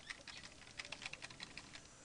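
Quiet computer keyboard typing, a quick irregular patter of light keystroke clicks heard up close, with no voices.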